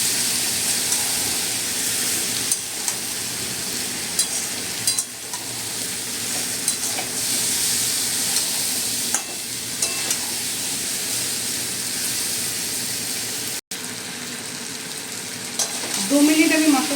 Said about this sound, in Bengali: আমি 2 মিনিট মতো মশলাটা কষে নেব।